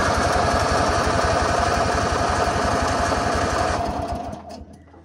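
A riding lawn mower engine runs with a fast, rhythmic chugging close by on choke, then sputters and dies out after a few seconds.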